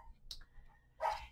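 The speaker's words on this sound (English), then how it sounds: "excuse my dog there" A dog gives a short bark in the background of a quiet room, with a brief louder burst near the end, while a person talks softly nearby.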